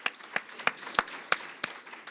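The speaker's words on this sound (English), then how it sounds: "we'll give them a big round of applause" Audience at a TEDx event claps: sparse, scattered handclaps at a moderate distance, spaced a fraction of a second apart rather than a full ovation.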